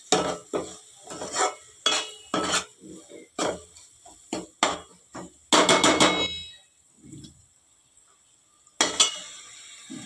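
Fish curry frying in a pan while being stirred, with repeated loud metallic clanks and scrapes of a spoon against the pan in uneven bursts over a soft sizzle, then a pause before one more clatter.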